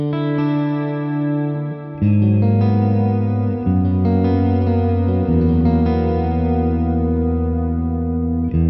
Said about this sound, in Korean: 모듈레이트 리버브.